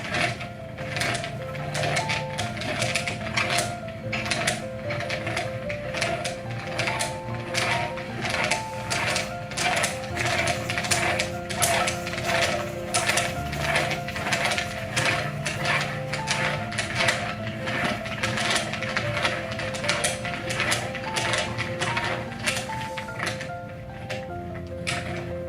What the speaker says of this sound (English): So we'll put this onto those wrench flats that are on the top of the probe rack, and then we'll start to turn it down to the desired depth